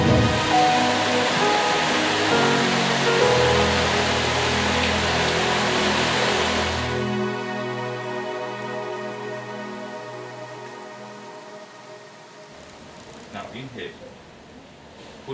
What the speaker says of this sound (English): I could hear the rain started